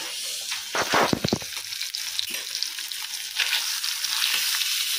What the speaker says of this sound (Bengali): আর মাছের তেলটা না ভাজতেছি